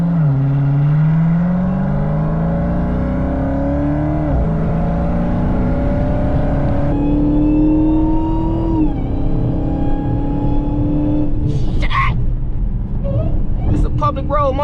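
A Dodge Hellcat drives down Sibley Boulevard on a public road, its engine droning loud and close, rising in pitch through repeated accelerations and gear changes, with brief sharp revving bursts near the end.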